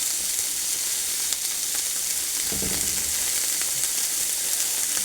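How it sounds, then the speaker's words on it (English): A steady, close sizzle of vegetables sautéing in a pan alongside ground beef, with a brief burst of louder stirring or scraping partway through and no talking. "let those saute for about 10 minutes"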